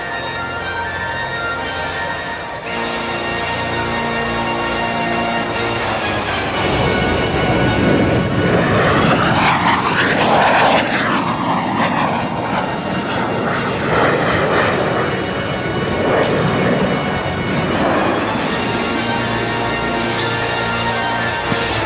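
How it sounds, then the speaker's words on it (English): A stealth fighter jet at a 1994 airshow passes overhead with a loud, sustained engine roar that swells over several seconds and then stays strong and broad, with no talk over it. "Ladies and gentlemen, the Stealth Fighter."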